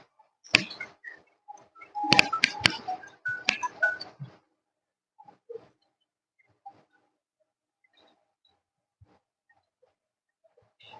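Telephone dialing tones sound as a quick burst of clustered beeps early on, followed by a few scattered faint clicks and tones against near silence.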